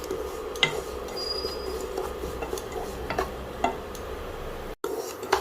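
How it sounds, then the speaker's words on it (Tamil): Semolina roasting in ghee in a pan over a low flame, a soft steady sizzle with light scraping ticks from the stirring spoon, close and fairly quiet, with no voices. "லோ ஃப்ளேமில் ரவையை நல்லா வறுத்துக்கணுங்க"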